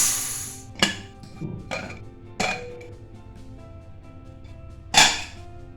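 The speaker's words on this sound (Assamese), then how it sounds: "এতিয়া কুকাৰটো ঠাণ্ডা হ'লে মই ঢাকন খুলিছোঁ।" Metal clanks and clinks come from the lid of a cooled pressure cooker being opened after steaming fish. Four or five sharp, fairly close knocks are spread unevenly apart, with a quiet room between them and no talking.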